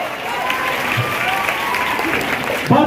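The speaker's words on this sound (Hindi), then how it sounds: "जोर से ताली बजाइए क्योंकि मंच का उद्घाटन हो चुका है।" A crowd claps for a stage inauguration at a Constitution Day gathering in Buxar, a dense steady burst of applause under a faint voice, swelling louder at the very end.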